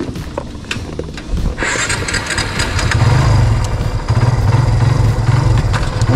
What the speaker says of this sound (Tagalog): Ganda talaga ng tunog ng motor pag na ano, bagong change oil.